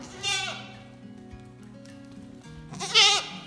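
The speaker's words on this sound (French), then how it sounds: "On arrive là où il y a les 3 petites chèvres." Goats bleat in a barn that was once a manure store, two loud wavering calls, one near the start and a stronger one near the end, with a quieter low bleat and animal shuffling in between.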